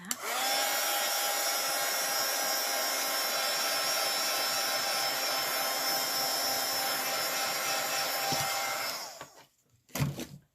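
A heat tool or dryer blows steadily over a mixed media craft piece, a loud continuous whirring hiss for about nine seconds before cutting off, followed by a couple of faint clicks and handling sounds.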